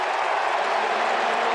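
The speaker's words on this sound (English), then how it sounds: "And the crowd loves it." A packed stadium crowd at a 2006 Falcons vs Cowboys NFL football game cheers and applauds in a dense, continuous roar at halftime, loud and unbroken throughout.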